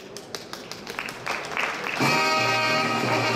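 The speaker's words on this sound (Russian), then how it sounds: "Аплодисменты громкие." Loud applause from an audience at an award ceremony closing an exhibition, scattered claps at first building into a dense, sustained ovation.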